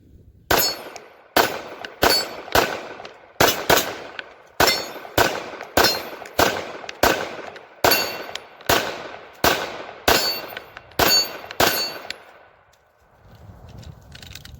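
A Taurus TH9 9mm pistol fires 122 grain hand loads at steel targets outdoors: about fifteen sharp shots in a steady cadence, each followed by a bright metallic clang from the steel, loud and close with no talking.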